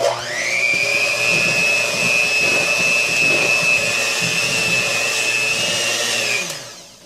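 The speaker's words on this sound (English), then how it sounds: "So, stir it up a little bit, then turn the mixer on." An electric mixer beats brownie batter, starting up to a loud steady whine that holds for several seconds and then winds down as it is switched off, close and with no talk.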